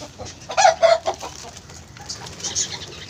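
Kairali hens on a rooftop terrace cluck in short, close bursts, a couple of sharp calls early and softer clucks later, with light background noise and no talk.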